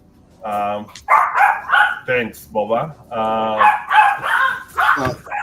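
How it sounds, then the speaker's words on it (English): Two dogs bark close by in a steady string of loud, repeated barks and yips, with a voice talking among them. "His dogs are saying hi now."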